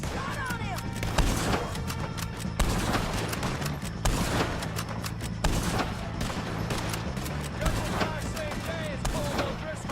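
Sustained gunfire against O'Driscoll gang members in Red Dead Redemption 2, a fusillade of repeated rifle and pistol shots cracking at an uneven rhythm over a busy battle bed, with shouting voices throughout.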